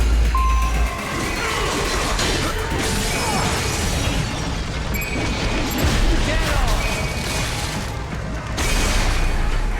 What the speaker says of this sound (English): I didn't realize there was an alarm to be triggered here